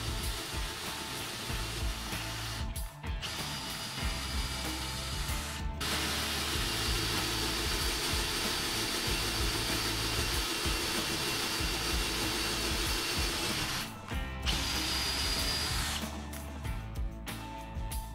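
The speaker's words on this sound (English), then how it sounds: "Let us behold the beauty of drilling." A Makita DDF480 cordless drill with two-speed metal gearing whines continuously at high speed with a grinding, buzzing tone, cutting out briefly twice before running again.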